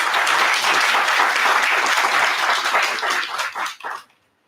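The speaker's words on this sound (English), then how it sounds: "A big round of applause to him." Loud, dense audience applause fills a conference hall at an inaugural ceremony, sustained evenly before tapering off and stopping abruptly.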